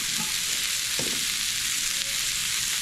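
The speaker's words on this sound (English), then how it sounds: "The reason you would want to sear this is because it helps seal in that moisture" Seasoned meat sears in a hot pan for burritos, giving a steady, close broadband sizzle with one brief stir or shift near the middle, and no voices.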